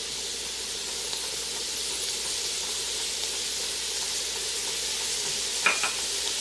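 Green onion goes into a pot of New England style clam chowder base, giving a steady, fairly loud hissing sizzle throughout and a brief sharp scrape of stirring near the end.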